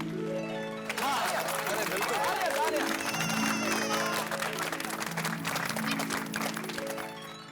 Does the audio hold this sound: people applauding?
yes